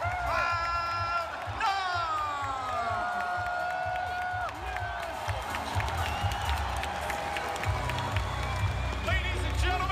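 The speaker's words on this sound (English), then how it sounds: "give a round of applause one more time" At a Rocket League esports event, a large arena audience applauds, cheers and whoops continuously while loud, tonal music plays underneath.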